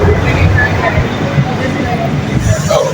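Rumbling London Underground Northern line train, steady low roar and rattle filling the whole stretch, with faint crowd babble mixed in.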